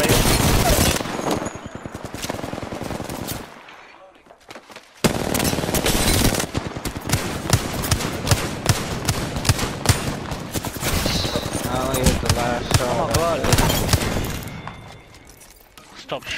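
Rapid automatic gunfire in the Apex Legends video game comes in long dense bursts, loud and close, with a brief pause and a fade near the end, and players talking over it.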